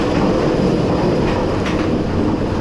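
The Kraken roller coaster train at SeaWorld Orlando leaves the station with a loud, continuous rumble and rattle of wheels on track, steady and close throughout.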